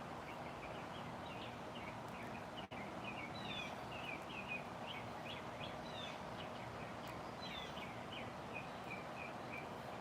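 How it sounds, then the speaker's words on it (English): Birds singing outdoors, a scatter of bright chirps and short warbling phrases at moderate distance over a quiet low background hum, with no talk. "The birds do sound lovely."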